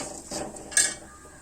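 A small metal pan clatters onto a stovetop, a couple of brief knocks and scrapes with one sharp clank near the middle, close and clear with no talk.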